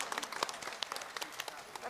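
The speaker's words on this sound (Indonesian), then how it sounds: "kita kasih tepuk tangan untuk Romo Romanus." Scattered, fairly faint clapping from a congregation at a Catholic mass, honouring the priest, with uneven individual claps rather than a full ovation.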